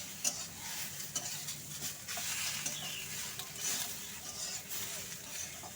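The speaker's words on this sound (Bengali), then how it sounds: "পাতাগুলো কিন্তু সবার শেষে দিলাম, দিয়ে 1 মিনিটের মতো নাড়াচাড়া করে মিশিয়ে নেব।" Malabar spinach leaves being stirred into a crab curry with pumpkin, a soft steady sizzle with spoon scraping throughout, close and moderately quiet, no voices.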